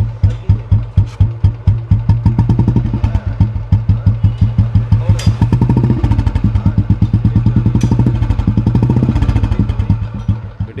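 Royal Enfield Bullet motorcycle idling after a spark plug misfire fix, then given light revs: a loud, close, thumping single-cylinder beat with even pulses that quicken and swell during brief throttle blips before settling back.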